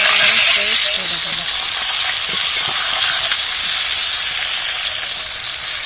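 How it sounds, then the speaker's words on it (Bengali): Prawns frying in hot oil in a home kitchen, a loud steady sizzle and hiss filling the whole stretch, with a voice talking faintly underneath. "তারপরে দেখো তেলের মধ্যে দিয়ে মাছটাকে ভেজে নিচ্ছে"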